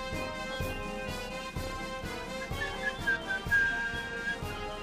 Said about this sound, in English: It just wouldn't be the same if you didn't have that, that little whistle.